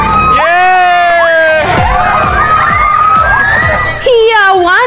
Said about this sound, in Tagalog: Hiyawan at palakpakan ng mga residente nang sa wakas, nagkaroon na ulit sila ng kuryente.